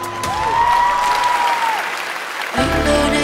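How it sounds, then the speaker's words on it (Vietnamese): Applause from a Rap Viet studio audience for a contestant, blended with sustained tonal music and a swooping synth tone, with a brief drop before the sound swells again. "Một tràng pháo tay cổ vũ cho bạn thưa quý vị."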